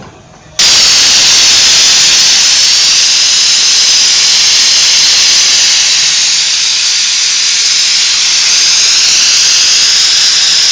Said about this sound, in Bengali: সিটি মারছে, এবার আরেকটা সিটি মারবে।